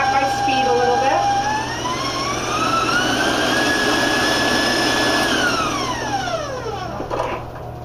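An electric stand mixer with a paddle beats butterscotch skillet cake batter, a steady loud motor whine rising in pitch as the speed goes up, then dropping away near the end.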